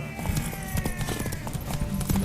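Horse hooves clip-clop in a steady, quick rhythm while riding in The Witcher 3: Wild Hunt, with sustained musical tones underneath and no talk.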